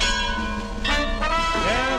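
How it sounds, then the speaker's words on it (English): A dinner bell rings on WLS Chicago radio, with about three ringing strikes in quick succession that hang and overlap in an old broadcast recording. "Yes, it's dinner bell time"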